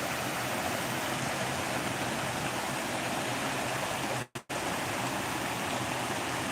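Main waterfall and stream flowing in the woods, a loud, steady broadband rush of falling water, close by and unbroken apart from a brief dropout near the end.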